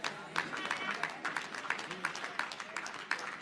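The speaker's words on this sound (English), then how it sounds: "the claps are real thin" Sparse, thin clapping from a small church audience, scattered claps spread unevenly over a few seconds with a murmur of voices underneath.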